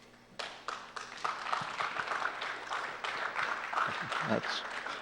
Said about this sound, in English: very happy to hear that applause